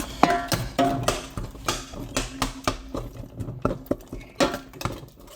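Leafy greens are stirred into a cooking pot with a metal utensil, making irregular clinking taps and scraping knocks against the pot in an uneven rhythm, close and fairly loud.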